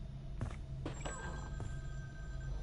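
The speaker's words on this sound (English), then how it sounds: "And there's the sound of the phone ringing." A telephone rings inside the virtual cabin of Friday the 13th: The Game, with several short ring bursts over a steady low background hum and no talking.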